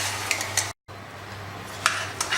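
A spoon scrapes and clinks against a pan while flour is stirred into minced mutton keema on the stove, with a few sharp metallic taps over a steady low hum.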